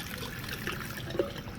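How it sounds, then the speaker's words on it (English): Water pours into a glass graduated cylinder in a lab, a steady close trickle with a brief louder splash near the end, heard alone. "So the first thing we're going to do is fill this up with water."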